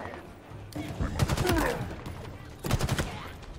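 Gunfire in the video game Halo Infinite, bursts of rapid game shots and impacts in two clusters, fairly quiet, mixed with other in-game combat sounds.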